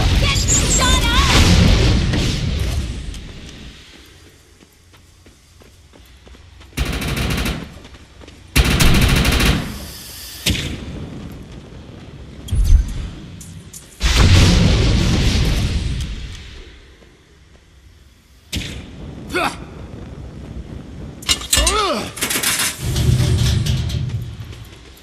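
Gunfire and a collapsing structure in the video game Defiance 2050: loud bursts of rapid shots and heavy booms come in uneven clusters, separated by quieter rumbling stretches, with a voice talking at times.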